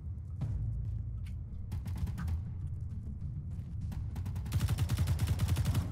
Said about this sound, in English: Oh, yeah, I'm getting shot.